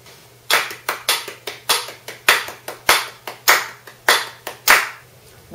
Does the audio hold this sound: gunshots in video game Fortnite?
no